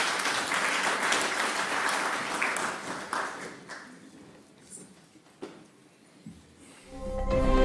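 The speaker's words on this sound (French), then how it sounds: "on va accueillir maintenant, sous vos applaudissements, Monsieur Augustin Matata Pogno" Audience applause at a formal lecture greets Augustin Matata Ponyo, honorary Prime Minister of the DRC, a dense burst of clapping that thins and fades to scattered claps before a rising hum and faint tones at the end.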